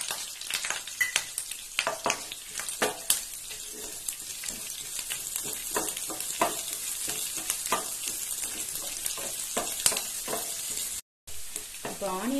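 Onions sizzle loudly in a hot pan for egg paniyaram gravy, a constant close frying crackle with frequent sharp stirring scrapes, briefly cut off near the end, no voices.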